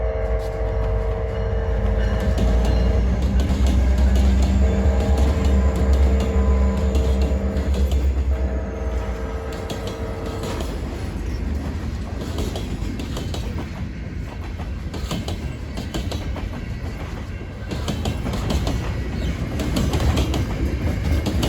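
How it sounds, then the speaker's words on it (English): Alaska Railroad freight train bound for Whittier rolling past on track at slow speed, with steady loud rumble, rail clatter and clickety-clack throughout, plus sustained horn or brake tones early on; no talk. "Successful chase of the Whittier freight train in the books"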